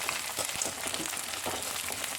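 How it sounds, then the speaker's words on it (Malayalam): Rice kondattam crackles and sizzles steadily in hot sunflower oil, a dense, continuous frying hiss close by with small bursts of popping throughout. "എണ്ണ നല്ലോണം ചൂടായിട്ടുണ്ട് നമുക്ക് നമ്മുടെ അരിക്കൊണ്ടാട്ടം ഇതിലേക്ക് ഇട്ട് കൊടുക്കാം"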